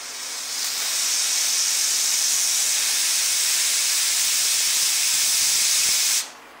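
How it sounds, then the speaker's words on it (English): Very hot steam hisses steadily from the pressure release of a pressure canner holding chanterelles, loud and close for about six seconds before cutting off abruptly. "That is very hot steam coming out of that."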